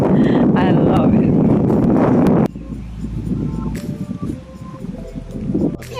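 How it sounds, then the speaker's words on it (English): Wind gusting through Parco Astichello in Vicenza, Italy, as autumn leaves fall, a loud, rumbling buffet across the microphone that drops off partway through, leaving a softer rustling breeze. "It's getting windy, the leaves are falling."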